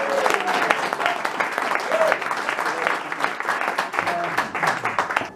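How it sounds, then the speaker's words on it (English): Audience applause at a traditional Irish music concert in Dublin musician Danny Diamond's set, steady dense clapping throughout with a few voices and cheers mixed in, moderately close and sustained. "Give him a massive round of applause."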